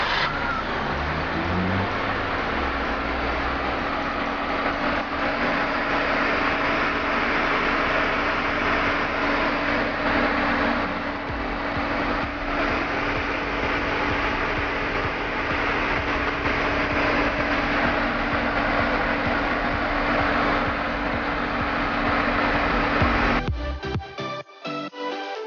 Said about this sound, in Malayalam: ഇതിൻ്റെ എക്സോസ്റ്റ് നോട്ട് ഒന്ന് ശ്രദ്ധിച്ചാലോ.